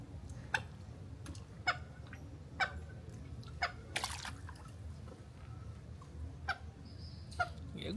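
Quails call in repeated short, sharp chirps spaced a second or so apart, set against a steady low outdoor rumble near water.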